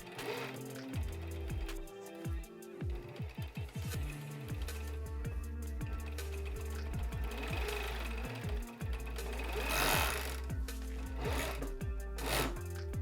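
A sewing machine runs stitching around a basketball jersey, a close mechanical whirring with rapid needle chatter in short bursts and longer steady runs, alone without talk.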